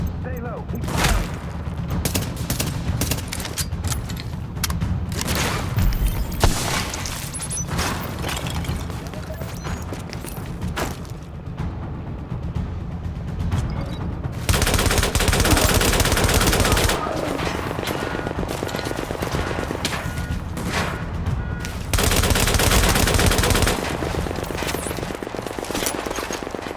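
Continuous, dense automatic gunfire and scattered booms from a firefight in the video game Tom Clancy's The Division, loud and close throughout, with brief voices under the shooting.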